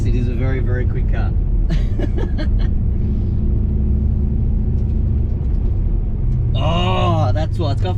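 LS-turbocharged Holden Monaro CV8 driving, a steady low engine rumble and road noise throughout, with people chuckling and talking over it in the cabin.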